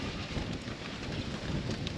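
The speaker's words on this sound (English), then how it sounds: "I don't know if you can hear it, but it is windy out there." Low, steady rumble of wind buffeting the microphone, fairly quiet and constant throughout.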